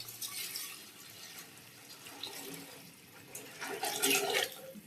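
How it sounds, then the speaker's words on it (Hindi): Water from a tap runs into a cooking pot being filled for boiling rice, a steady splashing flow that rises louder and brighter near the end, with no talk over it. "तो इसमें हम पानी ऐड करने लगे हैं।"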